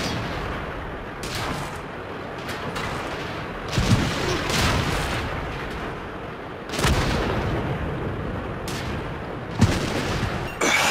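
Tank cannon shots and battle gunfire in the online game World of Tanks, a clan skirmish, with heavy booms near 4, 7 and 9.7 seconds over a steady, dense background of distant firing.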